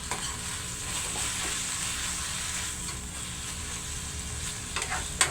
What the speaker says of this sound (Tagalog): Yung pagkakagisa ng sibuyas at bawang